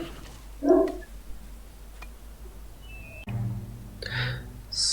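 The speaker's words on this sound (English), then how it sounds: "my dog was responding to someone knocking on the door" A dog barks in response to knocking at a door, a few sharp yelps and barks spread across several seconds, close by over a quiet background with no talking.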